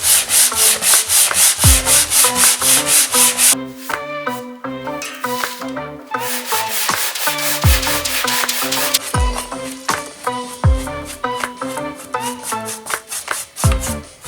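Steady rhythmic rasping of sandpaper rubbed back and forth over wood, loud and close, continuing in quick repeated strokes.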